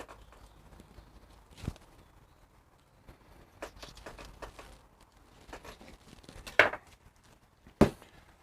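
Cleaver or knife chopping through a pig's knuckle while butchering half a hog at home, a few sharp isolated thwacks spaced apart, two louder blows near the end, close and dry against a quiet room.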